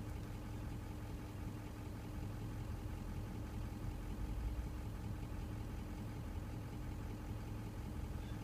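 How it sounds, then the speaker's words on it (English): A steady, low 6.0 Ford Powerstroke diesel engine drone idling continuously during a variable-geometry turbo learn procedure, with a faint mechanical hum and slight shifts in tone as the turbo vanes cycle, no voices. "you can actually hear the difference in the sound of the engine as it's learning it"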